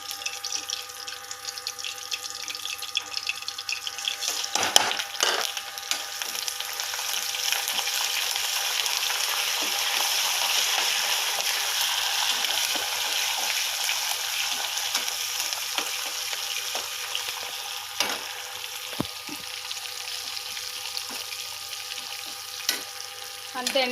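Garlic, dried red chillies, mustard seeds, cumin, chana dal and curry leaves fry in hot oil in a pan for a chutney: a loud, steady sizzle throughout, with occasional stirring scrapes and no talk.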